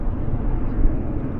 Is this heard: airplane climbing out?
yes